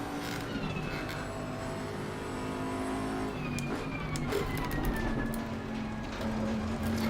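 A race car in Assetto Corsa Competizione, an SR604 S9 Pro at the Nürburgring in cold conditions, howls at full throttle through a steady, loud engine drone with rising pitch sweeps as it climbs through the gears, with no voices.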